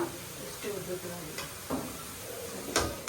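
Vegetables roasting in a pan give a low, continuous sizzle with occasional scrapes and taps from stirring, faint and close, with a voice murmuring in the background.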